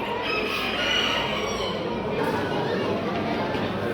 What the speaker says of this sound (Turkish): Bir tavuk daha burada var arkadaşlar